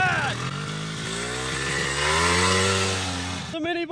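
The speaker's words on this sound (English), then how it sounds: "The mini bike's going again." Cheap FRP minibike's small engine running and revving, a buzzy, rising and falling drone close by, cutting off abruptly near the end as a voice speaks.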